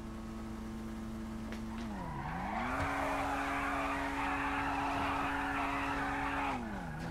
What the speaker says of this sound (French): Si tu fais crisser tes pneus, tu peux remonter